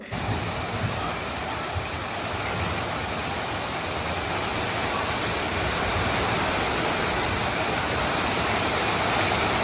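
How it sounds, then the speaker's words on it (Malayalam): Heavy rain pours steadily for the whole stretch, a dense, even roar of falling water with no pauses. "അങ്ങനെ മഴ നല്ല തകൃതിയായിട്ട് പെയ്തുകൊണ്ടിരിക്കുന്നു"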